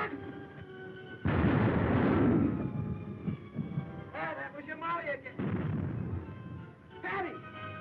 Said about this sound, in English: Keep both guns going.